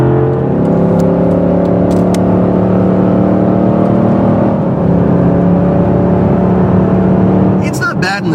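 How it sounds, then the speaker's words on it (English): Big 6.1-liter engine in a heavy front-heavy car pulls hard uphill, a loud, close, steady drone with layered harmonics that holds for several seconds, ending in a brief rustle. "Oh, you're gonna love the sound of that engine."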